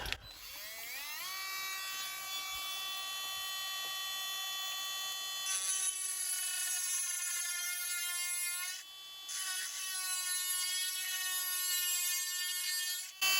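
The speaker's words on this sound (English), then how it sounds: "This is very, very, very hard stuff. Water going. Drill is spinning." A high-pitched Hyper Tough rotary tool with a diamond bit and water cooling whines steadily as it spins up and drills very hard petrified wood, with a brief dip in the middle before it resumes its shrill buzz.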